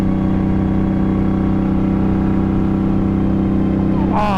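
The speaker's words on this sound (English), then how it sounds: "Oh, listen to that sound of the engine." The engine of an Indian Scout S motorcycle drones loud and steady throughout, a close, continuous rumble on a desert loop ride.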